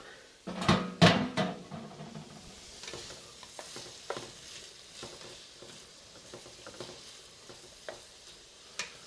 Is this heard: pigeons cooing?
no